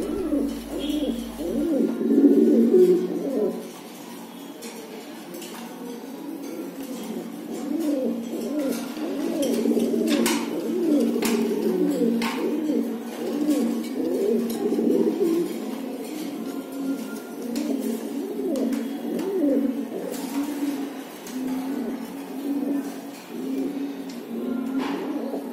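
Black barb pigeons, new adults, coo steadily in a low repeated murmur, several birds overlapping close by with faint chirps in the background and no talking.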